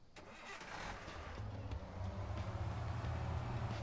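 Video-game car engine cranking and starting, then settling into a steady low idle rumble, moderately loud and alone.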